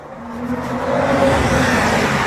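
A car engine revs up steadily, growing louder and holding a rough, rising roar with no voices over it.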